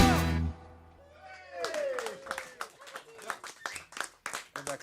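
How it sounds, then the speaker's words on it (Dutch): At a live concert, a sustained musical chord ends and speech-like sounds follow, then an audience starts clapping in scattered, increasingly rhythmic bursts. "En daar klappen we weer"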